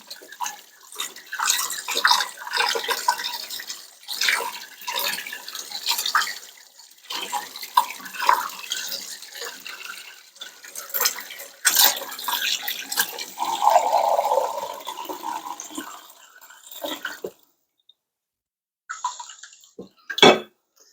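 Warm water runs from a kitchen tap into a liquid measuring cup, a continuous splashing gush with shifting pitch as the cup fills, then cut off near the end leaving brief quiet and a small clink.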